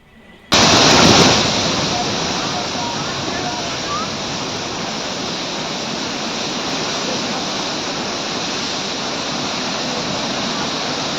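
Water rushes steadily through the opened gates of a dam project on the Manjira river in Telangana, a loud, continuous broadband roar that starts abruptly and holds unbroken for the rest of the stretch.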